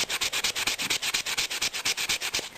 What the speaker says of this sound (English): you just want to start sanding until it gets nice and smooth